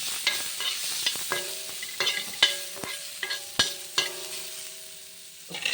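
Tomatoes sautéing in oil in a pan, a soft continuous sizzle broken by repeated sharp scrapes and clinks of a spoon stirring against the pan.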